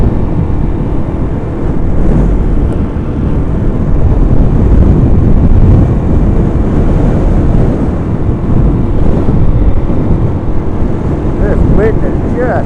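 A strong, brutal wind buffets the microphone outdoors, making a loud, constant roaring rumble with gusty surges that runs through the whole stretch.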